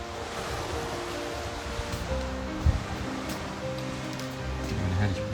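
Wind blows across a balcony as a steady, close whooshing breeze, with gusty rushing noise and faint background rumble throughout.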